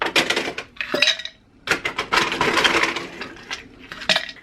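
Ice cubes clatter and clink as an ice cube machine drops them into a container, several bursts of bright rattling close up with short pauses between.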